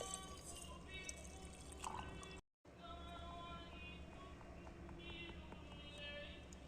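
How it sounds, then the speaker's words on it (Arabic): Water poured onto chia seeds makes a steady trickle and splash for a couple of seconds. It drops out briefly, then carries on as a softer watery wash. Nobody speaks. "وزي ما انتم شايفين زودناهم ميه"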